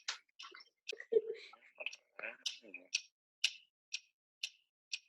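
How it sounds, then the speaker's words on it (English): Faint, evenly spaced ticking clicks repeat in a steady rhythm, with soft whispery voices and mouth sounds mixed in near the start. "What is that mysterious ticking noise?"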